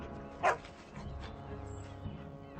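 A dog in the video game Dragon Age: Origins gives one brief sharp bark near the start, then low ambient game sound carries on with faint murmuring.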